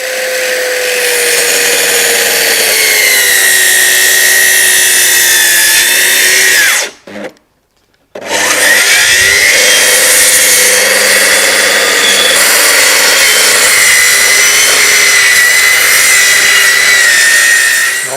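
A circular saw rips through a wooden decking board along a guide rail, a loud, steady whine held for about seven seconds, a brief silent pause, then the cut resumes and runs on continuously to the end.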